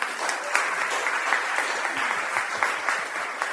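Audience applause for amateur readers at a reading event, a steady wash of many hands clapping close by, continuous and fairly even throughout with no voices over it.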